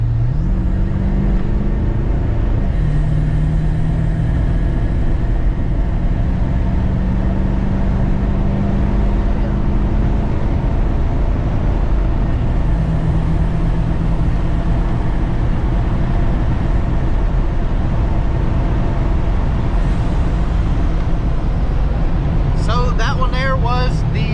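Ford 7.3 Powerstroke diesel truck engine pulling hard on a 100 horsepower tune, a loud steady drone and low rumble building through a roughly 40 to 95 mph run, with brief clicking near the end.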